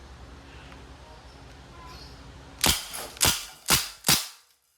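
Four sharp, loud shots from a DPMS SBR airgun rifle fired semi-automatic, evenly spaced about half a second apart after a stretch of low background noise.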